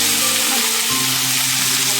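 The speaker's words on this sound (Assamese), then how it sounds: "অকল হালধি দি ৰঙচুৱা হোৱালৈকে এইখিনি মই ইয়াত ভাজি ল'ম" Something frying in a little oil with turmeric, a steady close sizzle running through the whole stretch with a faint stir partway in.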